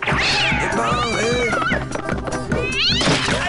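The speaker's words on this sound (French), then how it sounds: "Gaston, c'est encore votre fichu chat" A domestic cat meows loudly and repeatedly in a cartoon scene set in an office, with rising and falling yowls layered over busy music and bumping sounds throughout.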